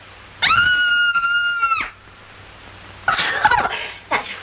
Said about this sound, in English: I'm so nervous I could scream.